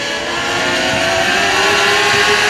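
Dirt Car Mod Lite modified race cars accelerate hard off the corner on a restart at 67 Speedway of Texarkana. Their engines roar loud and steady, layered and rising, with no voices over them.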